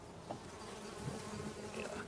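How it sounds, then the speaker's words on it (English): Honey bees hum steadily from an opened hive among four hives on a farm, a close, continuous drone with no talk over it. "Can we see the bees now? We can. Oh wow, I can hear them."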